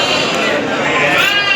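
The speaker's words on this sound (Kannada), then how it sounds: "ನಾಟಿ ಕುರಿ ಅಲ್ಲ, ಇದು ಬಂಡೂರು ಕುರಿ" Bandur sheep bleating on a farm, a continuous, loud, close chorus of overlapping bleats from several animals, with no clear pause through the short stretch.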